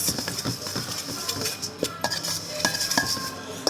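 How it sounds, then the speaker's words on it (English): A spoon scrapes and clinks against a bowl while oats are stirred for banana matcha overnight oats, a close, quiet run of irregular taps and swishes. "I'll give that a good little mix."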